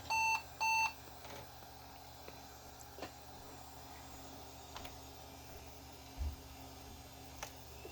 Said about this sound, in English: that annoying beeping before I finally go and change the CMOS battery